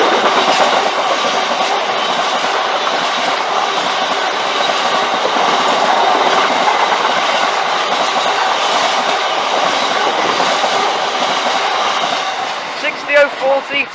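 Train 153379 departs a station beside sidings to the Humber Oil Refinery, giving a close, steady rumble with wheel clatter that holds for most of the stretch before thinning and breaking up near the end.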